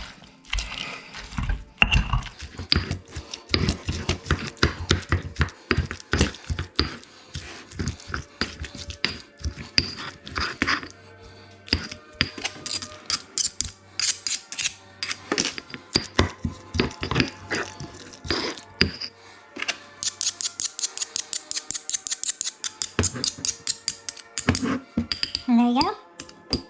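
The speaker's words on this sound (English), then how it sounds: "Now we're going to take our handle for the pistole and we're going to mash." A pestle mashes onions and tomatoes for salsa in a bowl, giving a long run of close, rhythmic knocks and squelching thumps that speed into a rapid burst near the end.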